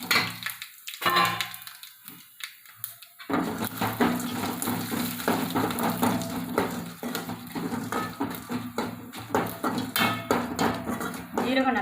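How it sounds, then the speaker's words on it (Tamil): Whole peppercorns and cumin seeds splutter in hot oil for a coconut milk rasam, starting with a few light clinks and then a dense, steady crackle that stays loud and close. "சீரகம் நல்லா பொரிஞ்சிருச்சு."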